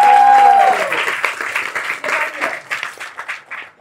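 An audience bursts into loud applause, with many hands clapping in a dense wash that gradually thins and fades. A brief tonal sound is heard at the very start.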